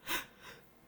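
A single short, sharp sneeze bursts out at the start, followed by a softer breathy exhale, close to the listener.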